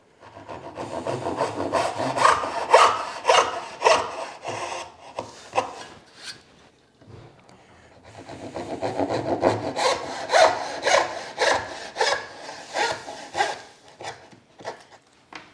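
A hand saw cuts wood for angled dovetails in two runs of steady rhythmic strokes, each several seconds long with a short pause between them, close and clear with no talk.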